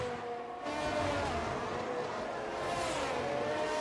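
Formula 1 car in the racing game F1 22 overtaking Lewis Hamilton at Imola, a loud close engine roar with a sharp rise in pitch as it pulls alongside and past, sustained for several seconds without talk.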